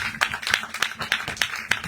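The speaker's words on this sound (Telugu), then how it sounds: "గట్టిగా చప్పట్లు కొడదాం." A church congregation at a revival meeting claps loudly in a steady, rhythmic beat, about seven sharp claps in two seconds, with no talk over it.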